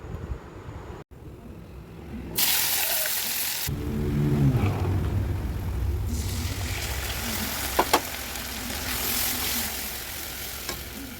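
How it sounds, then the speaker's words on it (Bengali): Bay leaf, dried chilli and cumin hit hot oil for tempering, bursting into a loud steady sizzle after a brief quiet start, with crackles and stirring scrapes continuing throughout. "আমার মা গরম তেলে ফোড়ন দিয়েছে তেজপাতা,"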